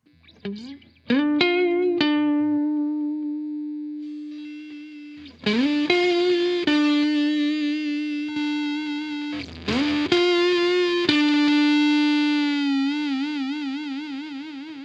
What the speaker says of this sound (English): the more we crush that waveform down with fewer bits, the more we get a type of hard clipping